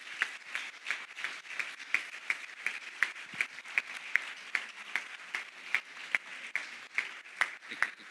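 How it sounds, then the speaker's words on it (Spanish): Audience clapping at a physiotherapy gala evening, a moderately loud, even bed of applause punctuated by a strong rhythmic beat of synchronized claps about twice a second, with no voices on top. "les damos un aplauso."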